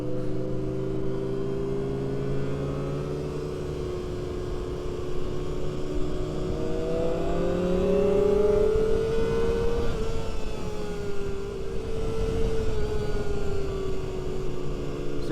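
A Honda CBR250RR motorcycle engine revs alongside a Lamborghini, a loud, continuous droning whine whose pitch climbs and sweeps through the middle of the pass and then eases, with no talk over it.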